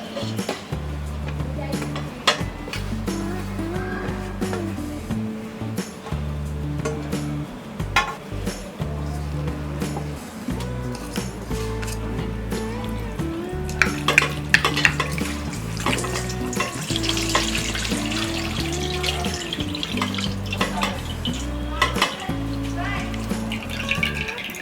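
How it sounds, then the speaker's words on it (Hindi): Grated potato being rinsed under running water in a metal strainer, with continuous splashing, trickling and occasional clinks of the strainer against a bowl, fairly close and steady. "अब हम इसे स्ट्रेनर में डाल के इसे वॉश करेंगे।"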